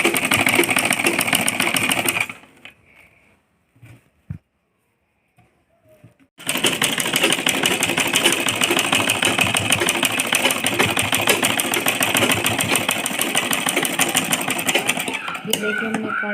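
A sewing machine stitches a frill onto a net chunni, running steadily and loudly, stopping for a few seconds of near silence with small handling clicks, then resuming a long continuous whirring run.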